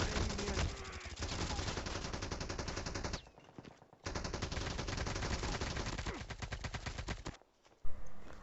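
Loud automatic gunfire from a Call of Duty duo-versus-duo match rattles in long rapid bursts, broken by a couple of brief pauses before the shooting resumes.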